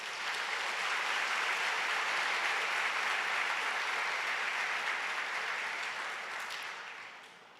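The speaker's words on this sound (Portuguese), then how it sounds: "Eita Deus, vamos aplaudir o Senhor." A church congregation applauds steadily, a dense even wash of clapping that holds for several seconds and then tapers off toward the end, with no talk over it.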